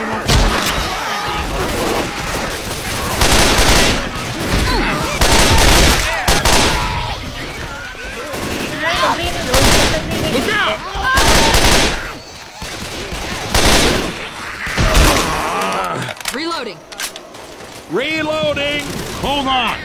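Rapid automatic gunfire from a video game shooter, loud bursts and volleys recurring throughout with brief pauses, while players talk over it.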